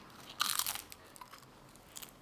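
A single sharp crunchy bite into crisp pizza, followed by a few faint crunching chews, close and quiet.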